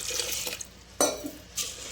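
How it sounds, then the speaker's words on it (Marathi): Wheat grains being rinsed and rubbed by hand in water in a kitchen, with soft sloshing and stirring followed by two sharper splashes, close and fairly quiet. "यात पाणी टाकून मस्त असं धुवून घ्यायचं."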